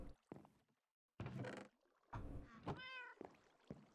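Cats in the video game Minecraft meow inside a bedroom, several short close meows spaced by pauses, one with a clear rising-and-falling tone, along with a couple of soft thuds.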